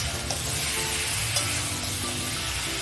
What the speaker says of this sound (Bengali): নরম হয়ে গেছে সব সবজিগুলোই ভেজে